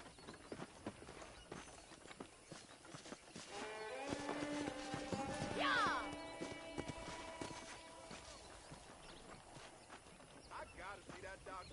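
A horse in Red Dead Redemption, hooves clip-clopping with a brief whinny midway, heard beneath game music and character dialogue.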